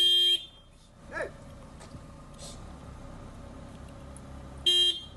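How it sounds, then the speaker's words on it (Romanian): Car horns honk on a mountain road blocked by bears, with two loud sustained blasts at the start and end, faint scattered sounds and distant voices between them. "Turiștii au început să claxoneze pentru a-l speria"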